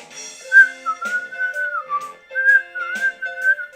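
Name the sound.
person whistling along to a show theme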